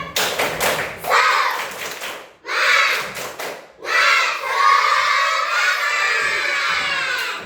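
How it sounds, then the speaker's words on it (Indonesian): Schoolchildren in a classroom do a rhythmic spirit clap, loud close bursts of patterned clapping and shouting in three waves, the last a long sustained cheer. "Tepuk semangat!"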